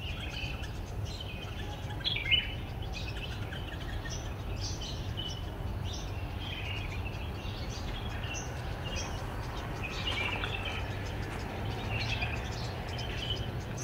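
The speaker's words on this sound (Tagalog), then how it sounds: "Ayan na, may mga ibon na dyan" Faint birds chirp intermittently in the distance over a steady low outdoor rumble, with no one speaking.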